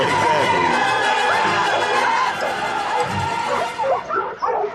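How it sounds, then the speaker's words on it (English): Dogs from a scene in the film The First Omen yip, whimper and give short barks, close and fairly loud over a dense, busy background, with possible voices mixed in. "Look at them dogs."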